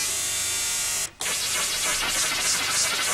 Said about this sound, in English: Noise sounds like this.